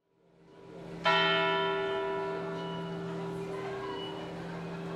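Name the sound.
Zeitglocke clock tower bell ringing in Bern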